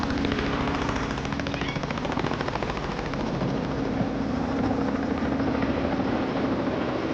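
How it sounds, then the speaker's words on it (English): A helicopter hovers nearby over African bush during a rhino rescue, its steady rotor thrum and engine roar continuous and loud throughout, with no voices. "The helicopter's hovering over him here"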